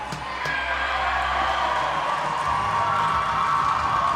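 Fans cheer in the stands at a Great Britain versus Canada under-20 women's ice hockey game, a steady crowd roar at moderate distance with scattered shouts and clapping.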